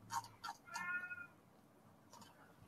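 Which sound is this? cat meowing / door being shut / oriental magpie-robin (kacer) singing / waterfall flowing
cat meowing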